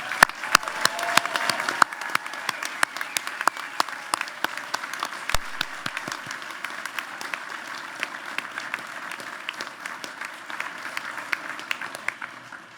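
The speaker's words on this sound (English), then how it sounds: "one more round of applause for the class of 2020" A commencement audience gives another round of applause for the 2020 graduating class: sparse, distinct claps rising into a steady, moderately loud patter that slowly thins over about thirteen seconds.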